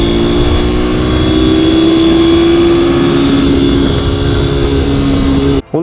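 A motorcycle on the Jebel Ali Mini GP circuit holds full throttle, its engine a loud, steady, close roar whose pitch climbs slightly before cutting off abruptly at the very end.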